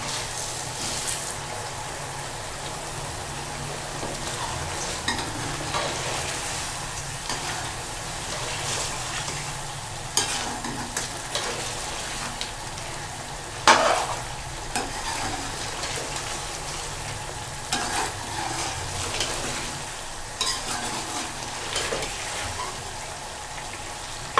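Spices sizzle and fry in hot oil for restaurant-style chicken karahi, with steady broadband crackle and occasional scraping stirs of a utensil against the pan, continuous and close throughout.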